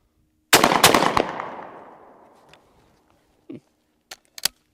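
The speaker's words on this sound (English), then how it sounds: "I'm gonna shoot a little faster now." A Browning Citori Hunter 20 gauge shotgun fires a quick, loud burst of several close shots whose sound fades into a long echo, followed later by a few sharp, brief clicks.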